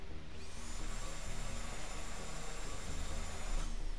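A power drill runs steadily at one pitch, a continuous whine held for several seconds at moderate loudness, starting and stopping cleanly.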